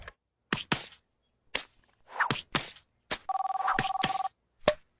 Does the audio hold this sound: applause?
no